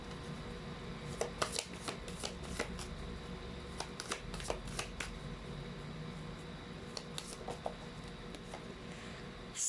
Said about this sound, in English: let's try to pull up a new set of cards